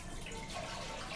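Water is poured by the left hand for washing, a short, soft splashing trickle heard alone and fairly faint.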